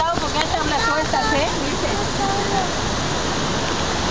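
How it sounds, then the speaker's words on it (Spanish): Waterfall in Xico, Veracruz, Mexico, a loud, continuous rushing roar of falling water close by, with a voice briefly heard early on. "Y de este lado, vamos a ver, la cascada."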